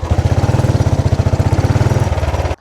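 A 1935 Velocette MAC single-cylinder motorcycle engine idles with a loud, steady, rapid thumping beat, then cuts off abruptly at the end.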